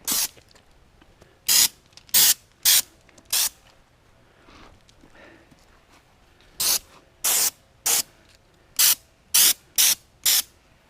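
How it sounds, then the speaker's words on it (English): Fluid Film aerosol can sprayed onto a Ram truck's underbody, bumper and exhaust area in a dozen sharp hissing bursts, four early and eight later, with quiet gaps between them. "spray some more behind these flares"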